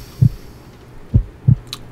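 Three deep, thudding heartbeats pulse close and loud in a video game, spaced unevenly over a low hum, with a faint high blip near the end.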